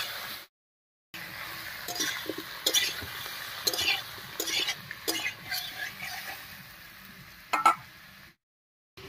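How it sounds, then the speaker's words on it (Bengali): Ash gourd pieces frying with salt and turmeric in a pan in a village kitchen, a steady soft sizzle with intermittent clinks and scrapes of stirring, moderately close, with no talk. "চাল কুমড়োটা ভাজা হয়ে থাক"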